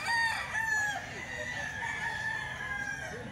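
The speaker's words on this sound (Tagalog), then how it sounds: "sobrang daming manok ngayon mga boss" A rooster crows loudly and close, its call stretching across the whole stretch, over a dense background of many chickens clucking and calling, with a voice faintly under the birds.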